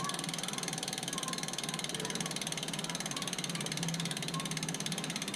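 Bicycle freewheel ratchet clicking in a fast, steady, continuous buzz as the freshly cleaned chain drivetrain spins freely, close and fairly quiet throughout.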